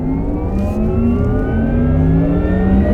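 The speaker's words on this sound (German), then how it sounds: "jetzt geben wir mal ein bisschen Gas" A 2021 Porsche Taycan electric car accelerates uphill on a winding mountain road, its rising electric motor whine climbing steadily in pitch over a loud, continuous rumble of road and wind noise.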